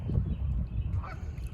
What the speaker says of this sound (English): I've never seen a swan that close before.